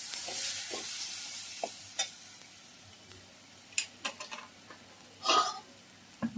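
Masala spices sautéed and stirred in a pan for a cauliflower, pea and potato curry, with a low background sizzle broken by scattered scraping clicks of the spoon, the sharpest bursts near the end.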